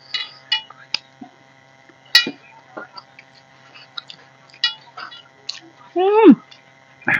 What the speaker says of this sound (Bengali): ভাতের সঙ্গে মাছ গুলিয়ে খাচ্ছে